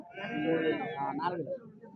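A single goat bleats close by at a busy livestock market, a wavering cry lasting about a second and a half, with voices talking around it.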